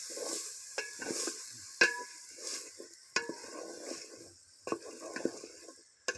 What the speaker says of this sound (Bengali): তা সবজিগুলো দিয়ে দেবো, গাজর, আলু, টমেটো একসঙ্গে দিয়ে কষে নেব।